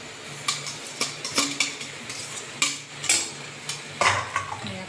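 Pasta being stirred in a pot, with a soft sizzle and a low hum beneath it and periodic scraping, clinking strokes of a spoon against the metal.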